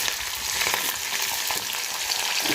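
Onions added to green chillies frying in oil in a pan for a bitter gourd masala curry, giving a steady, close, continuous sizzle with no talking.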